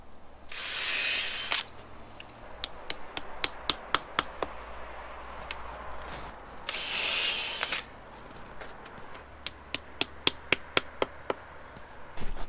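A drill boring taphole after taphole into maple trees on a hillside sugarbush, two long bursts of drilling followed by rapid runs of sharp taps as spouts are hammered in, close and alone.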